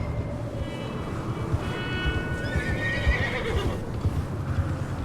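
A horse in Red Dead Redemption 2 gives a shrill, wavering neigh over a steady bed of clopping hooves and rumbling ambience, fairly close and clear.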